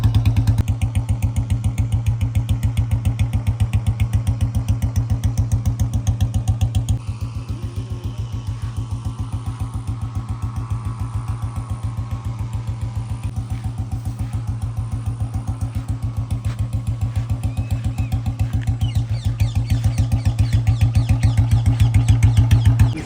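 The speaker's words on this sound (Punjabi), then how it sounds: "ਬੁਲਟ ਵੀ ਨਹੀਂ ਸਟਾਰਟ ਹੁੰਦਾ" A Bullet motorcycle engine idles steadily up close, with a loud, even thumping beat that runs the whole time and drops slightly in level partway through.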